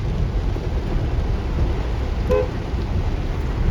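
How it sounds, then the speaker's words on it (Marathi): Rain pours onto a waterlogged street as a dense, even hiss throughout, with a brief faint horn-like toot partway through and no voices. "रस्त्यावर पाणी बसलं पाऊस आलाय"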